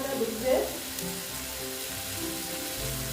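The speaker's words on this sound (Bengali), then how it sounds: "দেখো এইভাবে আস্তে আস্তে কষিয়ে দিচ্ছি আস্তে আস্তে মশলার সঙ্গে পটলটা" Pointed gourd (potol) sautés slowly in a pan with spices and dried red chili, making a soft, continuous frying sizzle with faint background voices.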